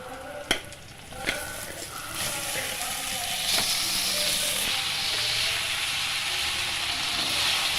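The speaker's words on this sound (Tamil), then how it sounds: "இப்போதாங்க இது நல்லா சாதம் சூடு பிடிக்கிற வரைக்கும் நம்ம நல்லா மிக்ஸ் பண்ணிக்கலாங்க" Tamarind rice (puli sadam) being stirred in a hot pan, with a couple of sharp spoon knocks early on, then a steady, fairly loud sizzle and scraping that carries on without pause.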